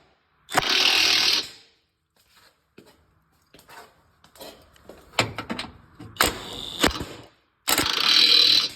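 A tool ratchets in loud bursts while tightening 21 mm bolts on the subframe cradle of a 2005-10 Chevrolet Cobalt, with clicking runs separated by quieter metallic handling and pauses.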